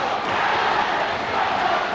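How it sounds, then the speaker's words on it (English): Roaring crowd of Fife Flyers ice hockey fans at a Scottish Cup Final rink in 1985, a steady wash of cheering and shouting with a commentator's voice over it. "there's a fair few Fife Flyers fans making themselves heard"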